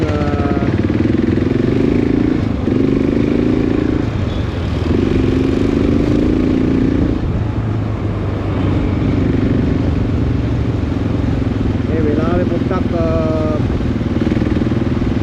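A 650cc off-road motorcycle ridden on a narrow trail in Hanthana, Sri Lanka, its engine droning loud and close with repeated surges and revs, while someone talks over it.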